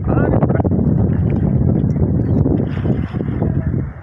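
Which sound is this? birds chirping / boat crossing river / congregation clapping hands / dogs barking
boat crossing river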